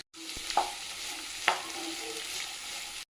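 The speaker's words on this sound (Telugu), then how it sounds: "షాలో ఫ్రై చేసుకుంటాం" Sliced onions and curry leaves shallow fry in oil in a home kitchen, giving a soft, steady sizzle broken by two sharp clinks of stirring.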